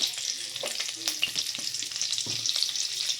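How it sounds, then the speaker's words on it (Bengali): Flat beans frying in a pan, a close, bright sizzle of hot oil broken by short stirring clicks and scrapes over a few seconds, with no speech. "সিমটাকে এবার ভেজে নিচ্ছি।"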